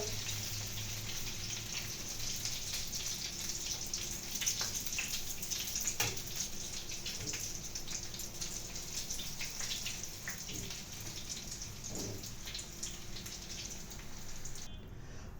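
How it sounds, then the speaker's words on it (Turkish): Broccoli frying in a pan, crisp on the outside, gives a steady dense sizzle with scattered pops and crackles throughout, close and fairly loud, with no talk over it. "Brokolilerim nar gibi kızardı."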